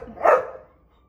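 A needy puppy shut out of a room gives a single sharp, fairly close bark that fades quickly, with no other sound around it.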